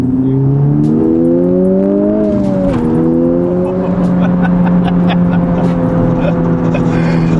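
A tuned 2020 Honda Civic Type R engine revs hard and close, its pitch climbing, dipping briefly, then holding a steady loud drone with a rough, raspy edge and crackles on top.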